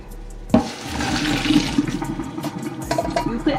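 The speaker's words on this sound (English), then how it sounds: "I'm just gonna drain it. And I just drain it with a strainer." Pasta water pours out through a strainer in a home kitchen, a loud rushing gush that starts abruptly and keeps splashing steadily, easing near the end.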